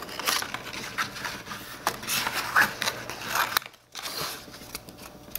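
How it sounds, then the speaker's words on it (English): A craft knife cuts through a 20 cm paper stencil, giving close scratchy scraping and crackling strokes in uneven bursts, with a brief pause before the cutting resumes. "I'm going to try and use a knife just on the middle bit"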